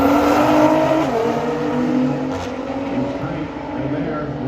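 Sports cars, among them a Ferrari 458, a Lamborghini Huracan and a McLaren 570S with IPE exhaust, roar in a loud, continuous engine howl during a drag race, with a commentator talking over it.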